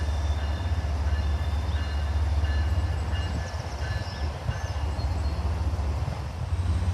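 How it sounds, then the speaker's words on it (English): An Amtrak train led by HSP46 locomotive 2021, bound for Providence, rolls into a station on track 1, making a loud, continuous low rumble with rail noise throughout. "an outbound bound for Providence, being led by HSP 46 2021, arrives in on track 1"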